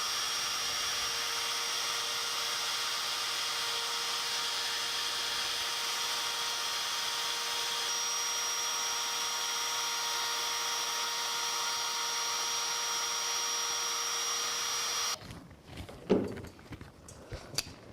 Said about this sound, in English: I've got a 3/16 of an inch straight bit installed in my router